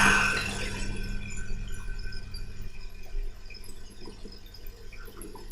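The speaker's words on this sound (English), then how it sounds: "by pouring the hot milk into the egg and sugar mixture, we created a little custard" Hot milk pours into a bowl of egg and sugar mixture with a soft, steady liquid trickle and splash that thins into faint drips and dribbles, then ends with a small clink.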